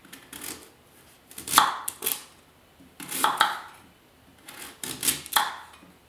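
A Global knife chops through hard vegetables on a cutting board in a series of sharp, close thuds that come in several bursts of two or three quick strokes, with quiet gaps between them.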